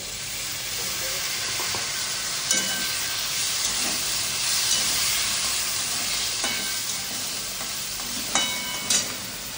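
Ginger, garlic, tomato and green chili sizzle steadily in a hot pan, a continuous hissing fry punctuated by a few sharp spatula clinks and stirring scrapes.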